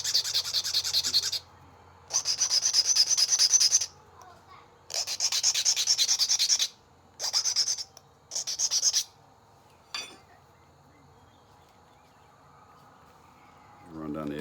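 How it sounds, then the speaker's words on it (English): Bent tool drawn along an edge to sharpen it: five close, bright rasping strokes in irregular bursts, separated by quiet gaps, with a faint scrape and light sounds near the end. "Run down the edge and sharpen it."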